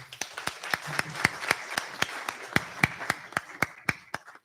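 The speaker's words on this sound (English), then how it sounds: "Please let's give him a round of applause." A small gathering claps for the Springboks rugby team at the National Press Club Newsmaker of the Year 2023 event: a steady run of distinct, fairly quiet hand claps over about four seconds, with no voices.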